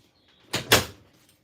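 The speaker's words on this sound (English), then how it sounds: "let me close the door" An RV door swings shut with a quick double thud and rattle, close and fairly loud, followed by quiet.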